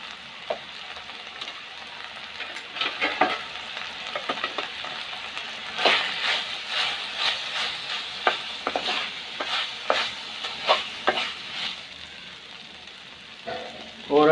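Salan masala stirred and fried in a pan gives a steady hiss of sizzling oil, with clustered clicks and scrapes of stirring that grow busier midway before a louder clatter at the end.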